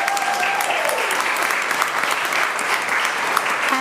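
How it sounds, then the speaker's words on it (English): A hall audience claps a sustained round of applause at a school district board of trustees meeting, dense and even throughout, with no one speaking over it. "we can give them another round of applause"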